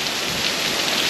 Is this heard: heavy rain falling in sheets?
yes